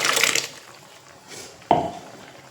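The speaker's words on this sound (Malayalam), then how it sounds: "ഇതിനെ ഇനി കടലയിലോട്ടൊന്ന് ഒഴിക്കുവാണ്" Ground chickpea paste is poured into a coconut-free chickpea curry, making a brief wet slop and splash after a softer liquid rush, then quiet.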